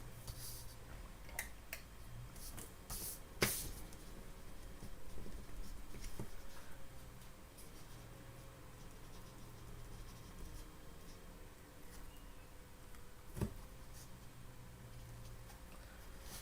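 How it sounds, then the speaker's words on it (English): A name being handwritten with a pen on paper, faint scratchy strokes in a quiet room with a couple of sharp taps and clicks along the way. "Let me write your name down."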